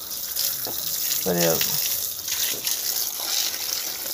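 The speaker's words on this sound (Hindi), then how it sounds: "पैर धो भी लेंगे, ये धुला गया।" Running water gushes and splashes as feet are washed clean of mud outdoors, a steady close wash of water with a brief spoken exclamation in the middle.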